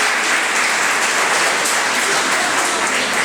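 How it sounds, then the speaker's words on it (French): Steady, dense applause from a conference audience in a hall in Arles, a continuous wash of many hands clapping at even loudness throughout, with no gaps. "Allez, on peut l'applaudir aussi."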